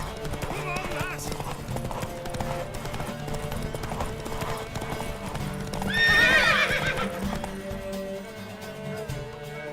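Horse hooves clip-clop steadily and a horse neighs loudly near the middle, set in The Witcher 3 video game over a layered music and ambient bed with some voices.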